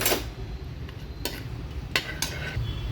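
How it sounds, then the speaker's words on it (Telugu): Bay leaf, cloves, cinnamon and cardamom fry in hot oil for a hotel-style kurma, making a steady low sizzle with a few sharp clinks of a spoon against the pan. "ఒక బిర్యానీ ఆకు నాలుగు లవంగాలు దాల్చిన చెక్క ఇలాచి వేసుకుని వేయించాలి"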